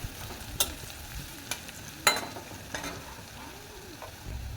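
Onions fry in a pan over a village kitchen fire until reddish, with soft sizzling and a few sharp stirring scrapes at irregular intervals, close by and no talk.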